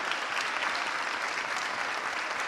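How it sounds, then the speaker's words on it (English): A dense audience applause for school board candidates at a candidate forum, steady and continuous throughout with no pauses, heard alone at moderate loudness. "This is the time where you finally get to give a big round of applause for all these candidates."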